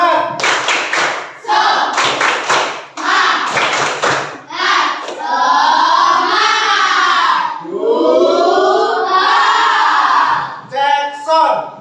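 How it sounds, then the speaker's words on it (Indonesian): Indonesian school class doing a spirit clap in a classroom during a language lesson, with bursts of loud rhythmic group clapping and thumps mixed with shouted chanting voices, close and energetic. "Tepuk semangat."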